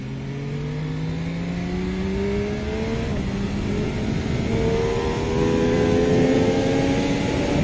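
A motorcycle fitted with a test rear shock accelerating on the road, its engine note climbing steadily through the gears with a brief dip at a shift, loud and continuous over wind rush, no talking.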